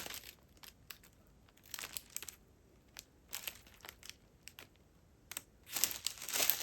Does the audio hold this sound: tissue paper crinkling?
yes